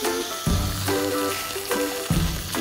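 Lamb browning in a frying pan, with a continuous sizzle broken by a few thumps and scrapes as the meat is handled or turned, close and moderately loud, no talking.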